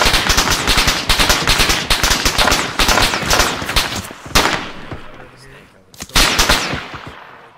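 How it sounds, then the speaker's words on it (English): Rapid bursts of automatic gunfire in Arma 3 during an Australian Army patrol, dense and loud for about four seconds, then a pause and another close burst. "you're being shot"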